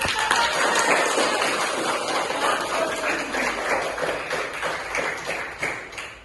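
Classroom of students clapping together after a lesson, a dense, steady run of many hand claps close by that carries on for several seconds and thins out toward the end.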